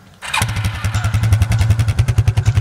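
A quad bike engine in the video game Arma 3 catches after a brief quiet start, then runs with a steady pulsing mid-pitched throb that grows slightly louder as the ride continues, close up and without voices.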